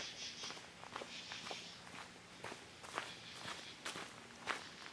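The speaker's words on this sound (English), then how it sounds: "As we're walking along here, you guys can see that there's a lot of leaves on the ground." Footsteps crunch through fallen leaves on a night hike, a steady walking rhythm of soft rustling steps heard close and fairly quiet.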